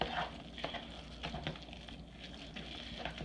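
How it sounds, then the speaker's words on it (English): Meatloaf mixture is stirred and mashed after milk is poured in, giving soft, wet squelches and irregular clicks of mixing close by, quiet and without talking. "And then you continue to mix it up."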